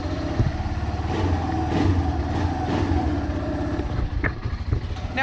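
An ATV engine with a carburetor fault runs unevenly, a close, loud low-pitched putter that gets blipped with a few throttle revs to keep it from dying.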